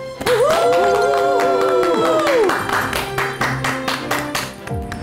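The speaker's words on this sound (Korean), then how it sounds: "큰 박수로 모셔주시기 바랍니다" Applause builds into steady clapping from a lecture audience welcoming a speaker, as a bright musical fanfare with sustained tones plays over it.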